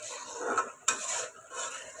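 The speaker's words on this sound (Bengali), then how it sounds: "এই দেখেন মশলাটা ভালোভাবে এরকম কষাতে হবে" A spatula scrapes and stirs spice paste frying in oil in a pan, with repeated close scraping strokes and a sharp metallic clink partway through, under a faint background sizzle.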